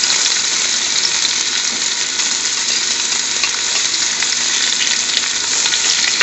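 Chopped garlic fries hard in a pan of oil and is tossed while spinach is cooked Indian restaurant style, making a loud, continuous, close sizzle with no one speaking.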